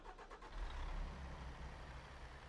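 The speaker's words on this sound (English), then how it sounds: "Ooh, that engine has a deep rumble" A video-game truck fitted with a loading crane starts its engine, settling into a steady, deep low rumble that holds close and fairly loud throughout.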